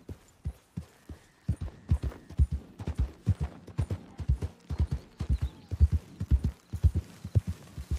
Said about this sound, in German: Jetzt reiten wir wieder zurück ins Camp.